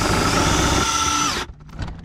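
A power drill bores out a damaged bolt during car repair work, a loud continuous high whine up close that winds down and stops abruptly, followed by brief clatter.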